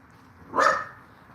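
A single short dog bark rises midway through, moderately close, over a low background hum.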